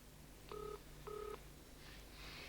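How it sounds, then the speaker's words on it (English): Push-button telephone dialing in a TV drama scene: two distinct tone beeps a short pause apart, heard fairly clearly over a quiet low hum, with a faint sound trailing at the end. "Phoning for Marty, I suppose."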